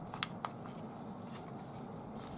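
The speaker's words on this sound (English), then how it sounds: "I'm going to cut the tab out of this fabric, this paper, cardstock, whatevs." Scissors cut a tab out of cardstock, with two quick, faint snips close together near the start and then quiet room noise.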